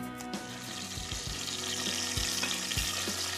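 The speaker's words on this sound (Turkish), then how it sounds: "Domatesin içindeki su hafiften çıktığı için şu anda cızırdıyor." Salted tomatoes with plenty of garlic sizzle steadily in a hot pan as their juice cooks out, a continuous close crackling hiss broken by a few dull low knocks.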